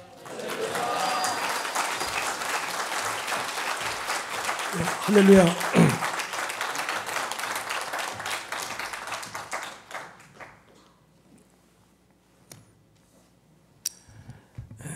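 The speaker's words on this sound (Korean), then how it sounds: "우리 하나님께 감사의 박수, 영광의 박수 올리며 할렐루야 함께 외치겠습니다" A church congregation applauds at a Sunday service, a dense, loud wash of clapping with voices calling out together, lasting about ten seconds before tapering to near silence with a few stray taps.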